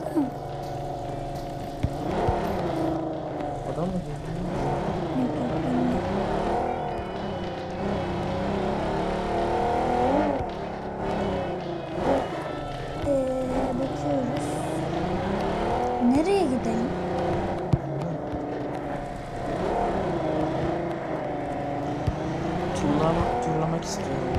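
A car driven around in the battle-royale game PUBG, its engine droning steadily with shifting pitch as it speeds along, with occasional tire squeals, under near-constant talk from players.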